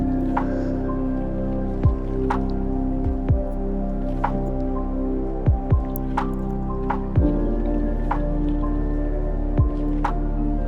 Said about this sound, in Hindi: शिट, बारिश भी हो रही है